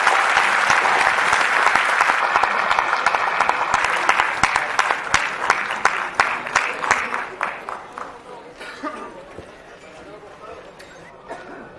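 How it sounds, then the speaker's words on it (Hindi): Loud applause from an audience at a Hindi MLM business meeting, steady dense clapping that thins toward the end into scattered individual claps. "एक बार जोरदार तालियां हो जाए लोगों को।"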